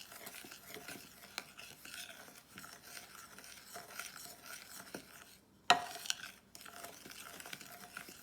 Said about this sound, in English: I'm going to add my 1/4 cup of salt, my 1/4 cup of salt, and I'm gonna mix it together.